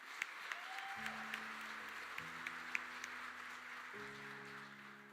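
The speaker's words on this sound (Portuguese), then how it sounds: "eu quero muito mesmo, de verdade, uma salva de palmas para vocês" Applause from a church congregation during a Portuguese-language service, a steady quiet patter of clapping with a sustained organ or keyboard chord underneath.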